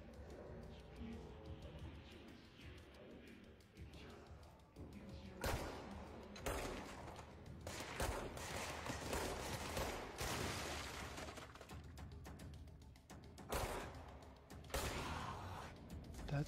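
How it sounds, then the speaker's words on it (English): Gunfire in the video game Control, a dense run of overlapping shots and thuds that swells and stays loud through most of the stretch, with a brief voice in the mix. "Who is shooting?"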